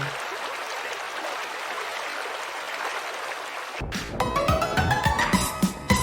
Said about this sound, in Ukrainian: річка.